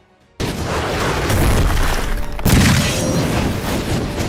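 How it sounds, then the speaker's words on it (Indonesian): After a brief quiet moment, a loud booming blast of a hand cannon erupts, followed by a second crashing burst and rumbling debris. "Ia pun langsung menembakkannya ke arah Tuan Liu."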